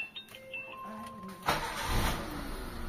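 A Mitsubishi Lancer's engine starting: a few faint clicks and a rising starter whine, then the engine catches with a surge and settles into a steady idle close by.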